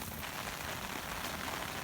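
Steady rain pours down on a flooding backyard with overwhelmed mulch beds and runoff streaming in, a constant soft hiss of drops with no voices.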